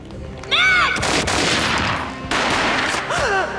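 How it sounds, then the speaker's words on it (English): Gunshots from the Max Payne video game on PS2: a loud burst of gunfire crashes in after a short sung or tonal voice, rings on with a sustained echoing tail, then fades as the tonal voice returns. "A gunshot boomed and she fell down in slow motion."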